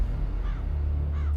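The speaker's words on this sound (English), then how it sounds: "a grisly, unnerving sight where crows pecked at half-buried corpses" Crows caw over an old battlefield, two harsh rising calls standing out close and clear above a low rumbling background, with no voices.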